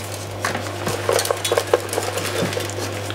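Seasoned lamb pieces with salt and olive oil being shaken in a dish, giving a run of light clinks and rattles against the dish at close range, with no talk.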